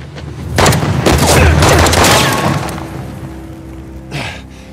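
In Uncharted: The Lost Legacy, gunfire erupts as a heavy booming burst that rolls into a long rumbling tail, loud and close, followed by a single fainter thump.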